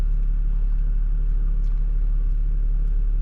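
A 1999 BMW E46 328i drives along after a front brake job, heard from inside as a steady, loud low road and engine rumble with a constant drone.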